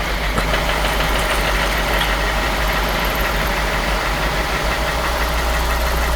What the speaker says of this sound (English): This engine started knocking right after I fixed another problem